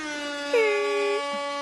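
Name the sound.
air horn sound effect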